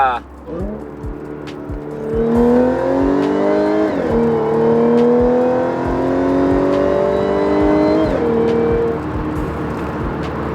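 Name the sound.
car supercharger whine while revving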